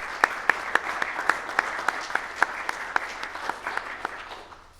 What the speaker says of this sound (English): we can just do a little round of applause for them